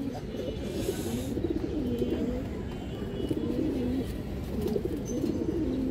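Pigeons, including a khaki-patterned domestic bird, coo in repeated low rolling phrases close by, a steady throaty burble running through the whole stretch with faint chirps above.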